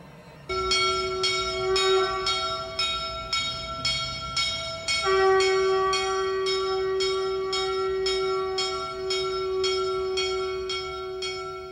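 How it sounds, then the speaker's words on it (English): A temple gong struck repeatedly in a steady rhythm at a Hindu temple service in Bangkok, each ringing metallic tone overlapping the next, with a second deeper strike joining halfway. "The priest calls the faithful by blowing a conch shell and ringing a gong."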